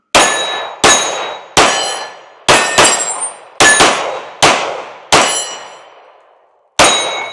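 Rounds from a Ruger RXM pistol strike a steel plate about 12 to 14 yards away, giving eight sharp metallic clangs, each ringing out and decaying, spaced irregularly with a brief double hit near the middle.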